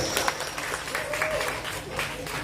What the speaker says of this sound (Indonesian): Tepuk tangan yang meriah untuk Mas Faisal